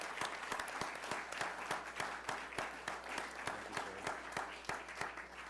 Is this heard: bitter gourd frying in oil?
no